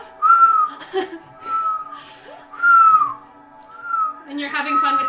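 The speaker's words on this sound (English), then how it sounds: "And you're having fun with the echo of your whistle." A person whistles a short tune live, four drawn-out notes, each sliding slightly and separated by short gaps, closing with a rougher burst of sound.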